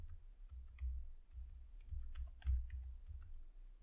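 Typing on a computer keyboard while entering CSS code, with soft, quick key clicks in short irregular runs, fairly quiet over a low background hum, no voices.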